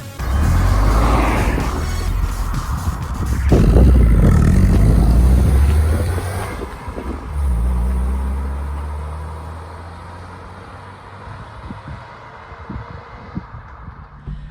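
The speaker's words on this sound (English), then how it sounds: "I'm going to be driving the Golf on private land" A 2.0-litre mk4 Volkswagen Golf Cabriolet is driven on private land, its engine revving hard and loud up close, surging twice, then easing off into a quieter rumble with scattered knocks.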